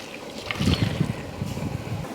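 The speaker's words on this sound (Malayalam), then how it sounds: "അപ്പോൾ വെള്ളം തിളച്ചിട്ടുണ്ട്" Low rumbling, bubbling water noise with a steady churning texture, like a pot at a rolling boil, fairly close and continuous.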